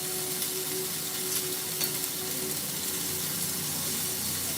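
Chopped bacon sizzling and frying in its own fat in a pan, a steady close hiss with light crackle and occasional stirring, no one talking.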